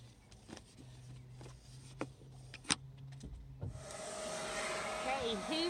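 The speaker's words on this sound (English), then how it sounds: "Hoovering." A vacuum cleaner starts up partway through while a car interior is being cleaned, a steady whining drone that follows some quieter handling knocks and clicks.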